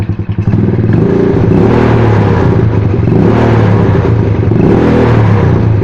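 Motorcycle engine idling steadily with a leaking carburetor intake neck, a loud, close, continuous rough putter with an uneven clattering beat throughout.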